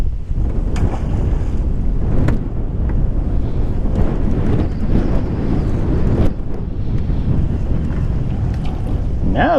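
Wind gusts buffet the microphone on a bass-fishing boat out on open water, giving a loud, steady roar and rumble with lapping waves and occasional knocks against the hull.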